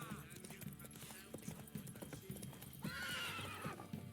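A horse gallops in The Witcher 3, with rapid rhythmic clip-clop hoofbeats throughout and a neigh near the end, accompanied by game ambience.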